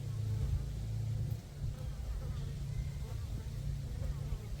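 Honeybees from a swarm drone steadily around a swarm trap, their low, continuous buzzing close by and filling the whole stretch, with faint outdoor background beneath.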